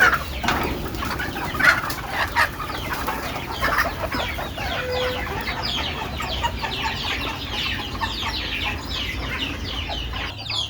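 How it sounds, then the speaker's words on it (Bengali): Native desi chickens cluck while being let out and fed, with scattered soft calls over a busy background of pecking and movement nearby. "চলুন মুরগিগুলো ছাড়িয়ে, এই দেখেন খাবার দিয়ে দিছি ওদের।"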